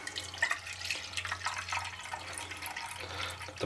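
Pepper soaking water pouring into a blender, a soft, faint continuous trickle and splash with a low hum underneath.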